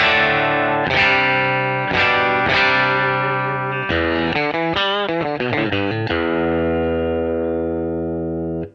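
Clean Fender Telecaster electric guitar with a touch of slapback delay from a TC Electronic Flashback Mini, playing ringing sustained chords and then a quicker picked run before settling on a long decaying chord, close and alone.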